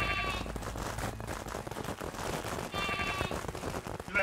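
Sheep bleating in the video game Craftopia, several wavering bleats over a dense, busy background of clattering game sounds, fairly loud throughout.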